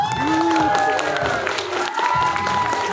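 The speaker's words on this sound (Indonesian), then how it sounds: "nanti berikan tepuk tangan ya dalam hitungan ketiga" A crowd of visitors at an outdoor family attraction in Puncak, Bogor, claps and cheers loudly together on a countdown cue, with shouting voices over sustained applause.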